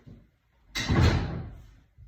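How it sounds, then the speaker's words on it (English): A household door swings shut with a firm thud and a brief rushing whoosh, loud and close, fading over about a second. "you got to close the door"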